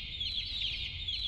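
Chicken clucking from a creature in the horror game Garten of Banban 2, a steady, fairly loud run of bright squawky clucks over a low rumbling game ambience, with no voices.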